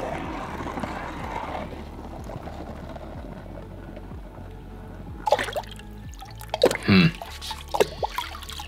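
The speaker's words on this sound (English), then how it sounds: "all we have to do is dunk this into the water." An object is dunked into a bucket of water, with soft sloshing at first, then a sharp splash and a cluster of wet drips and gurgles, close and fairly quiet.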